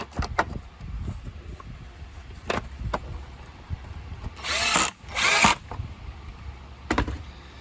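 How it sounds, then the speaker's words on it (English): A parts vacuum cleans out the inside of a clogged Bissell bagless vacuum in two loud bursts of suction near the middle, amid sharp clicks and handling knocks. "I'm going to vacuum out the inside of this."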